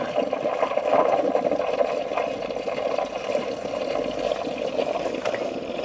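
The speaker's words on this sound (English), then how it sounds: "we're ready to turn the pump on" Water pump on a newly finished aquaponics system pushing roughly 8,000 litres an hour, giving a steady, close wash of flowing and splashing water that runs unbroken throughout with no talking.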